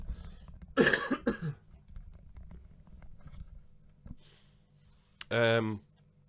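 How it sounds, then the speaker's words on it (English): A commentator at a 10-ball pool match coughs close to the microphone: a couple of rough bursts early on, then quieter room sound and a later strained, voiced throat noise. "Excuse me, cough coming on"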